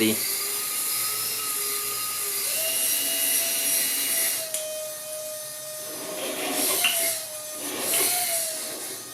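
A cheap RC car winch motor whines steadily while pulling and compressing the front suspension, its thin electric tone rising and dipping in pitch, with bursts of grinding motor noise over a persistent background hiss.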